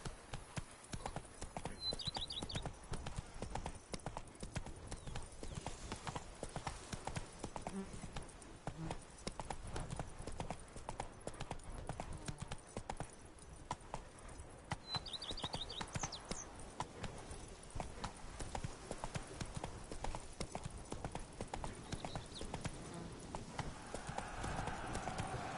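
Hoofbeats of a horse galloping in The Witcher 3 video game, a steady clip-clop rhythm running throughout at moderate loudness under game ambience, with a couple of brief bird chirps.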